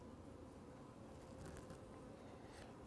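Honey bees on a hive frame give a dense, continuous buzz, faint but steady and close, with no talk over it.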